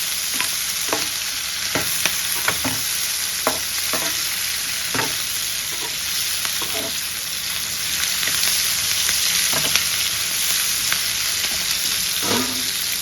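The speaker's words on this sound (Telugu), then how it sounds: "ఇప్పుడు నీట్గా అయితే బాగా వేయించుకోవాలి దాన్ని." Capsicum for pickle stir-fries in a pan, a constant bright sizzle punctuated by repeated scraping strokes of a spatula against the metal.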